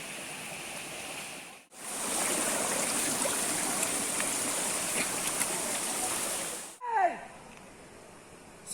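The Gengavaram waterfall and rocky stream near Gingee pour with a loud, steady rush of white water, broken by two short cuts, with the flow continuing more softly after the second.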